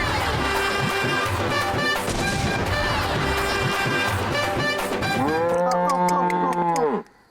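Cows lowing in a rural Tamil village setting, several overlapping moos over a lively crowd background, ending in one long loud drawn-out moo that cuts off abruptly.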